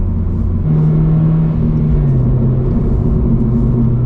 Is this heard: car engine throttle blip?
yes